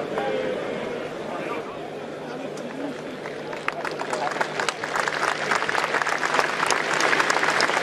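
Spectators at a friendly football match applaud, with dense clapping building steadily louder over crowd murmur and stadium noise.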